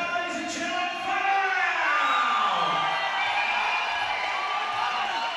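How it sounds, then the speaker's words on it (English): A large crowd cheers and roars at a Muay Thai fight in a leisure centre arena, a dense, loud, sustained wash of voices and whoops with a commentator's voice over it. "Massive crowd. Thousands watching around the world at Muay Thai royalty."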